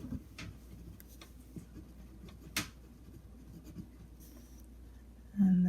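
Scratching of a Sensa Meridian fountain pen with a medium steel nib and Carbon Black finish writing on paper, a quiet close-up series of soft strokes with a few sharper ticks.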